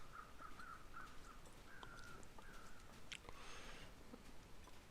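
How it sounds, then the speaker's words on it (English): Crows caw overhead in the survival game The Long Dark: a faint run of short, repeated caws comes early and is followed by a drawn-out call, all quiet and distant over a low, steady wind-like background. "it's just crows flying overhead"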